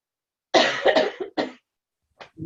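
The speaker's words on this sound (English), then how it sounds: "I swear I haven't coughed all morning" Woman coughing close to the microphone, a burst of several harsh coughs in quick succession followed by a shorter cough after a pause, loud against otherwise near silence.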